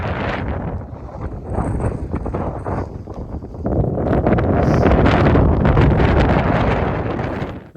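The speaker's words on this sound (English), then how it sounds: "And it's windy" Strong wind on an Appalachian Trail ridge top buffets the microphone with a roaring, gusty rush that grows louder and heavier partway through.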